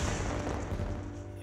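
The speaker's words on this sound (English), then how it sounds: "Explosions." Explosions in the video game Dangerous Golf, a dense rumbling crash of booming blasts and smashing debris, loud at the start and fading slightly over a short burst.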